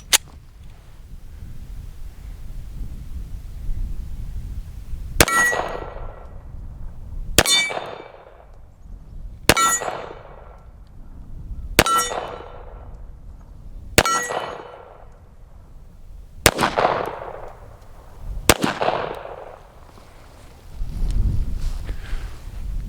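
Seven sharp, loud pistol shots from a Tisas 1911 A1 at an outdoor range, evenly spaced about two seconds apart, each with a ringing metallic tail, and no talking.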